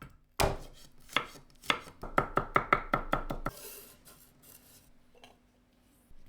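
A knife chops garlic, shallot and chive on a board for a ginger-garlic sauce, giving a few sharp separate cuts and then a quick even run of about ten close knocks before the work stops and goes quiet.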